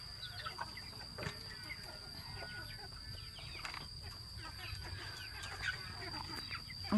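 Chickens cluck in scattered, irregular bursts at moderate distance, faint against a quiet outdoor background with occasional other noises.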